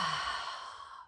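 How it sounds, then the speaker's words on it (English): A deep breath exhaled during guided breathing practice, a single soft, airy sigh that starts strong and fades out over about a second, close to the mic with no other sound. "Let's take a nice breath in and breathe out, opening the heart."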